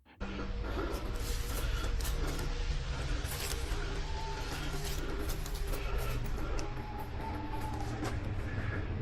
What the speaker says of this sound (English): Tony owls going off their heads down there